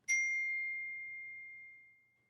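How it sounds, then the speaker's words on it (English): A phone text message alert sounds as a single bright chime that rings on and slowly fades over about two seconds, alone in quiet. "Suddenly, Cassie's phone buzzes."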